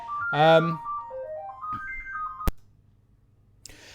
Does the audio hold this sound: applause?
no